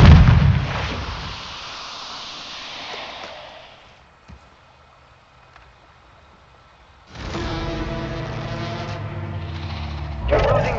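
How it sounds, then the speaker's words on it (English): A grenade blast in the video game Warzone, a loud burst that decays into a long rumbling tail, quiets, then gives way to renewed gunfire and combat noise. "Grenade out!"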